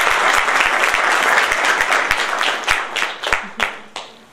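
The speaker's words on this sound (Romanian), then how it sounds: "vă rog să-l aplaudăm." Audience applause at a National Liberal Party county meeting in Giurgiu, a dense burst of many clapping hands that thins toward the end into scattered sharp claps.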